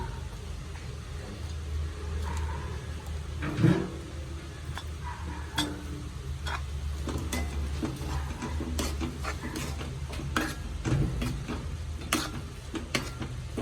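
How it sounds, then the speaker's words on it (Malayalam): Ground masala paste goes into a simmering egg kurma and is stirred, giving a low steady bubbling sizzle under intermittent spoon taps and scrapes against the pot. "ഇനി അരച്ചു വെച്ച കൂട്ട് ഒഴിച്ചു കൊടുക്കാം."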